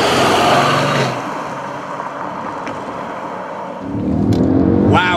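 A Mercedes ML 63 AMG with a 5.5-liter V8 pulls hard, its broad engine roar surging loudly, easing off briefly mid-run, then swelling again as it accelerates, with wind and road rush layered underneath.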